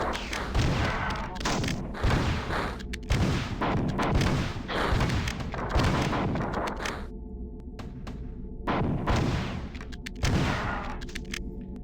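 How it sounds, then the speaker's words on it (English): Grenades fired in quick succession in the shooter game Marathon 2: Durandal, heavy booming blasts and thuds packed close together in a loud, busy barrage with no voices. "Shooting 2 grenades in a row is a little much, sir."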